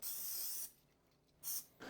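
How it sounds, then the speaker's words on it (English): Cooking spray hisses onto loaf tins before they are filled with nut-free zucchini bread batter, a close sharp spray in two bursts, a longer one then a short one, with a quiet pause between. "Now spray your loaf tins"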